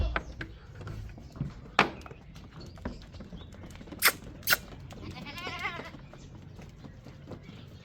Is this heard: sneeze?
no